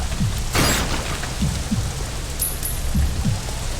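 Steady rain pours in the Painkiller: Overdose video game, a dense loud hiss with low thuds and a brief splash-like burst, no voices.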